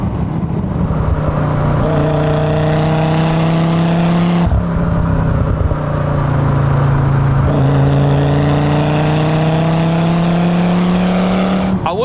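A FIAT Coupe 20v Turbo engine pulls hard through the gears, its note climbing steadily toward 7000 rpm in two long rising sweeps, loud and close with a brief break for a gear change.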